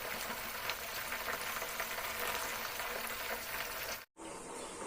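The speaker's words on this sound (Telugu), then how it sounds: "దొండకాయలు అయితే మంచిగా ఫ్రై అయ్యే వరకు ఆయిల్లో మంచిగా ఫ్రై చేసుకోవాలి" Ivy gourd (dondakaya) pieces frying in hot oil make a dense, continuous crackling sizzle, loud and close, that cuts out abruptly for a moment near the end before resuming.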